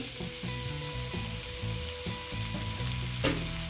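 Pav bhaji vegetables sizzle steadily in butter in a pan, a continuous frying hiss with occasional stirring knocks and one sharp clatter near the end, with no voices.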